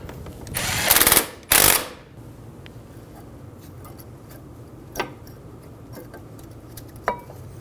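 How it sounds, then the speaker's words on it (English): Power tool tightening brake caliper bracket bolts on a Toyota Camry: two loud, close whirring bursts early on, then quiet with a couple of faint metallic clicks. "Snug down the bolts."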